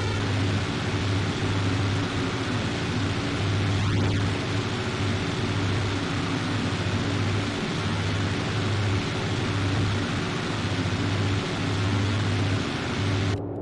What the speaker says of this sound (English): this plane sounds incredible